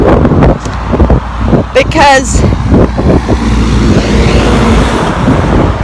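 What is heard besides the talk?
road traffic passing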